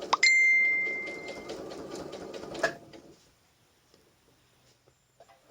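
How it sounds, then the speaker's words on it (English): A sewing machine runs through thick layers of fabric for a few seconds with a steady mechanical whir and a bright bell-like ding near the start, then stops, leaving a few faint clicks. "I want my machine to be able to cope with going through all the layers without whizzing through"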